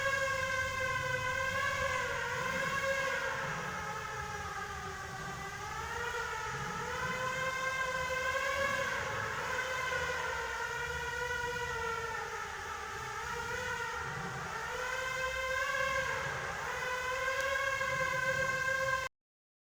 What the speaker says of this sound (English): we can hear the low-frequency sounds from the wave makers and the high-frequency sounds from the tower control system